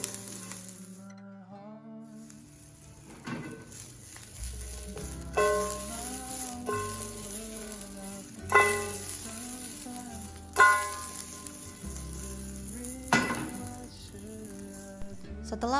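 Beef and green beans sizzle steadily in a hot pan, with periodic scraping and clanking as they are stirred. The frying sounds close and carries on alone, without speech.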